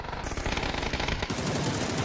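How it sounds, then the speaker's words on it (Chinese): Rapid automatic gunfire in a PUBG esports match, a dense, fast rattling string of shots at moderate loudness, with no voices. "永远开枪的时候可能要出事了"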